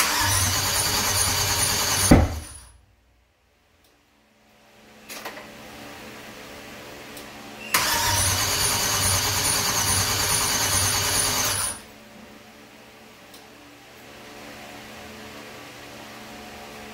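An LS-swapped Jeep CJ engine cranks loudly in two long bursts, with a sharp bang partway through, then goes quiet and runs down to a low hum, with no one talking.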